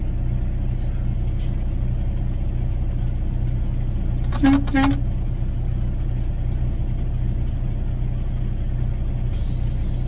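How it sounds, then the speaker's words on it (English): Two short honks of a car horn in quick succession over a constant low engine rumble, heard from inside a vehicle. "Honk the horn and see if he rolls forward a little bit."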